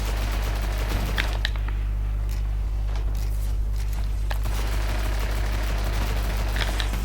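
Small-weapon gunfire in the video game Destiny: rapid bursts of sharp shots crack repeatedly over a constant low game hum, coming in clustered volleys with brief pauses between them.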